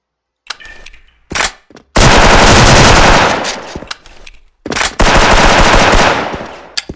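Rifle fire in a shooter video game: a few short single shots, then two long rapid automatic bursts roughly two and a half seconds apiece, loud and close with brief silent gaps between them.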